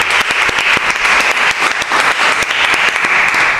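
Loud, continuous audience applause in Marbella, with individual claps popping out of the dense wash, steady throughout the short stretch with no talk over it.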